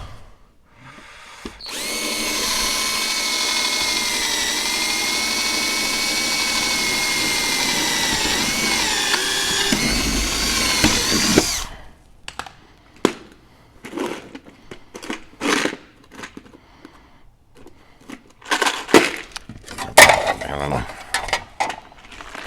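A power drill bores holes through a car tailgate, a loud continuous high whine for about ten seconds that cuts off, followed by scattered clunks and knocks of handling.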